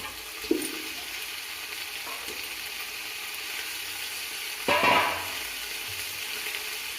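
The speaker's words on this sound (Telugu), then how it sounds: "దీంట్లోకి వెజిటేబుల్స్ అన్నీ వేద్దాం. ముందుగా కాలీఫ్లవర్," Cauliflower and other vegetables dropped into a hot frying pan with onion and green chilli, giving a soft steady sizzle with a brief louder burst of hissing near the end.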